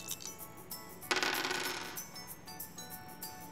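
Three dice re-rolled in the High Score dice game, a bright clattering rattle that lasts under a second, with faint quieter clicks before and after.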